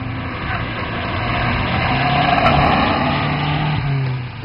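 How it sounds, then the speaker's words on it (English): A 2010 Mazdaspeed3 hot laps on a race track, its engine droning steadily and close, swelling slightly as it pulls through the lap with no voices. "I took the car to the track for a Sunday afternoon of hot lapping at Mosport Park's driver development track"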